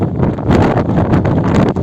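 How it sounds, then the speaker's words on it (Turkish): Strong wind at Burdur Lake, Turkey, buffets the microphone in a loud, rough roar that surges and eases without a break. "Çok rüzgar var."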